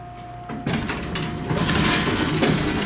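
Mechanical rumble and whirring of an original Westinghouse Black Button traction service elevator starting up in an old Cleveland building, a steady machine drone with clatter, close by and without talk.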